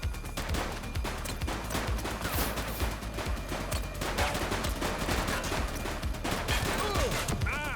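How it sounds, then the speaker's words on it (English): Sustained gunfire in a police shootout in the video game The Precinct, dense overlapping bursts of shots with impacts and crashes, loud and continuous throughout. "Light them up! Shots fired!"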